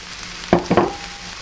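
Spring onions go into a pan of Chinese-style fried rice: a steady low sizzle runs throughout, broken by two short, louder bursts of stirring and scraping near the middle.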